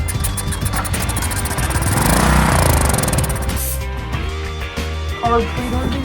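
A fourteen-year-old Briggs and Stratton generator engine that sat unused for over five years, run on the choke, sputters and revs loudly up close, with uneven chugging that surges and then drops back toward a rough idle.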